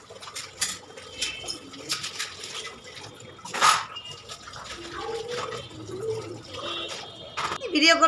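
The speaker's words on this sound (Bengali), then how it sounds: "বাসন টাসন ধোয়া হয়ে গেছে।" Washed dishes and pots clink and knock under splashing and dripping water, close and intermittent, with birds calling faintly in the background.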